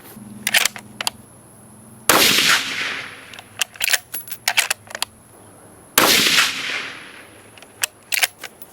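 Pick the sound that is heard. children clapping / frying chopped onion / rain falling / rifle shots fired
rifle shots fired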